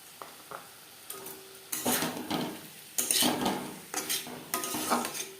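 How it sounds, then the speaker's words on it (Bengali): Paneer, tangy curd and vegetables stirred in a pan for a vegetarian paneer roll filling, heard as intermittent scraping and clinking of a spatula against metal in short bursts, close and moderately loud with no talking. "সবজির সাথে পনির বেশ ভালো করে মিক্স করে দেব।"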